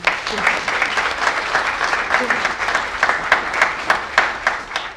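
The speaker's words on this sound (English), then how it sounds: "Let's give them a round of applause" A crowd at a youth filmmaking program event gives a round of applause, with many hands clapping in a steady, close wash and scattered sharper claps standing out.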